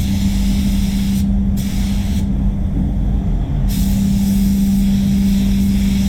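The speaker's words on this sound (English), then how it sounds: "candy respray while using the viscosity cup, and we'll see if it makes a difference." A spray gun lays candy paint onto a Mazda CX-5 during a respray, giving a steady, loud hiss of rushing air with a low hum beneath. The hiss briefly thins twice as the trigger eases off and back on.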